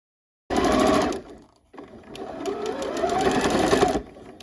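Sewing machine stitching along a seam on a mock-neck bell-sleeve fall top, a loud steady motor hum in two runs separated by a short pause.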